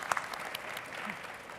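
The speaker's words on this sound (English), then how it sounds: "If we can give her a round of applause," Short burst of audience applause for a panel guest, a diffuse patter of clapping at moderate volume with no speech heard.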